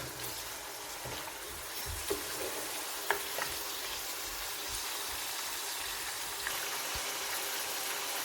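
Large meat pieces for haleem sear in a pan, giving off an even, close sizzle with a few sharp clicks and knocks from the spoon along the way.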